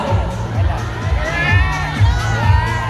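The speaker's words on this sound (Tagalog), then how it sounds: "And the crowd goes wild." A crowd at a fan event erupts in cheering, whoops and high-pitched shouting, sustained and surging across the whole stretch with overlapping voices.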